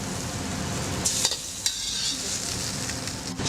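Rice frying in a pan, a steady hissing sizzle with a few sharp utensil taps and scrapes as it is stirred, close and fairly loud, no voices.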